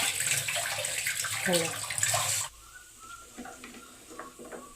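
Cleaned fish heads are washed in water, with a steady gushing rush and splashing for a couple of seconds before it cuts off, leaving softer drips and wet handling sounds.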